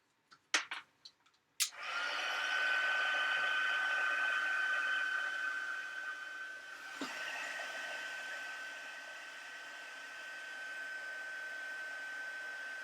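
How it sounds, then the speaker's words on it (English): An embossing heat tool for heat embossing powder roars on as a steady, loud blowing hiss with a high whine, running continuously for about eleven seconds after a few clicks and bumps, with a brief dip midway. "I'm going to get my heat tool out."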